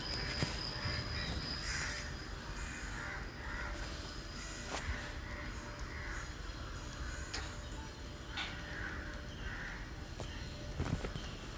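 Crows and other birds call from trees during an outdoor morning walk, with repeated caws and chirps over steady outdoor background noise and faint footsteps, with no talk.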